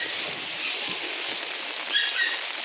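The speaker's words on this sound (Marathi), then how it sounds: "पाऊस जोरदार आलेला आहे" Heavy monsoon rain in the Konkan region of India pours in a dense, even hiss throughout, close and constant, with no voices.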